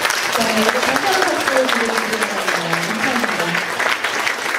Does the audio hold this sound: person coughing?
no